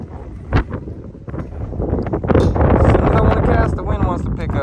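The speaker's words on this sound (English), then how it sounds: "oh man, the wind wants to pick up, huh?" Wind gusts buffet the microphone at a trout fishing spot, building from a moderate rumble to a loud steady rush, with a short thump near the start and brief voices in the background.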